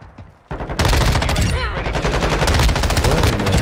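Sustained close automatic fire from the M13 rifle in the Modern Warfare 2 video game: a loud, dense stream of rapid shots after a brief quieter start, continuing to the end.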